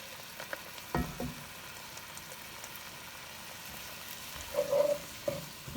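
Garlic sizzles quietly in a pan on the stove during empanada filling prep, a faint steady frying hiss with a few clinks and stirring scrapes and no talking.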